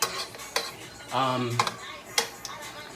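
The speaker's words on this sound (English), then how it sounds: "Grab your spoon, mix it up." A spoon stirring shrimp, mushroom and broccoli Alfredo in a pan, giving a few scraping, clinking strokes close up, with a voice speaking briefly in the middle.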